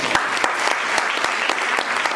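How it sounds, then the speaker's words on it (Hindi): Enthusiastic applause from a crowd, dense and steady clapping that carries on without a break, loud and close. "जोरदार तालियां सभी अच्छी बात।"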